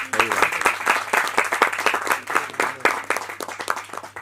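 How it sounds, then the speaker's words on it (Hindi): Audience applause at a Hindi film trailer and music launch, a dense burst of many hands clapping that stays fairly loud and steady throughout, with a faint voice briefly under it. "आप सब लोगों को अगर ट्रेलर अच्छा लगा हो तो उसके लिए ताली बजा दीजिए"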